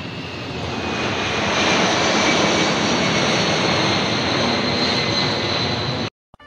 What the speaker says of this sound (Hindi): अब देखो एरोप्लेन आने वाला है